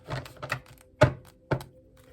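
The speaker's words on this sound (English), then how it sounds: "Let's do one more shuffle." Crisp papery slaps and flutters of tarot cards being shuffled, a quick run of soft riffles followed by two sharper taps, close up and without speech.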